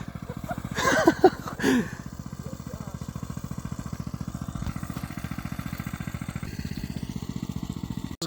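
A clutched Coleman B200 mini bike engine chugs steadily uphill, a fast even putter held close throughout, with a brief louder burst of revving or voices near the start.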